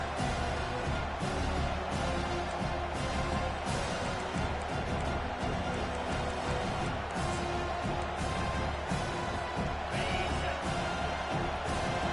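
A dense, steady roar from a packed stadium crowd at a football game, loud and continuous with no letup, rising slightly in places as if cheering.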